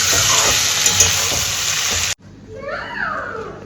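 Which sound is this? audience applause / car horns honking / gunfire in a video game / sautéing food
sautéing food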